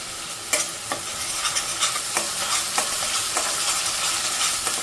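Ginger garlic paste fries in hot oil while a spoon stirs it around the pan, giving a steady close sizzle with regular scraping strokes about every half second and no talk.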